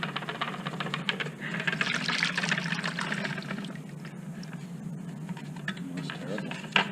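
Water pours and splashes into a gold pan at close range, a continuous liquid wash running the whole time with faint clatter, and a voice talks over it.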